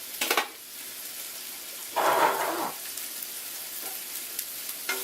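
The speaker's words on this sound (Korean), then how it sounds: "한쪽에다가는 파프리카, 한쪽에다는 가 이렇게 놓고 같이 볶을게요." Paprika, fish cake and green onion are stir-fried in a pan for japchae, with a short burst of loud sizzling midway between quieter stretches of faint crackle and a couple of light clicks.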